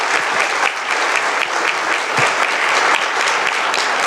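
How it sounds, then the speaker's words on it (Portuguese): An audience at a São Paulo ceremony honouring a new honorary citizen breaks into sustained applause, a dense, even wash of many hands clapping at close range for the whole stretch. "Eu peço uma salva de palmas a ele."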